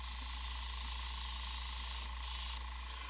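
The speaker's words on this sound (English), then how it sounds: "I'm gonna spray from the side here" A Badger airbrush sprays paint onto a half-scale Species bust in a steady, close hiss that holds throughout, dipping briefly near the end as the trigger eases off and comes back on.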